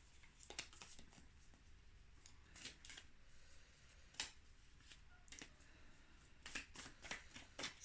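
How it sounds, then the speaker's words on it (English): Oracle cards being shuffled by hand, a series of quick papery riffles and flicks in uneven bursts, soft and close with a faint background hiss. "I'll just shuffle them properly though."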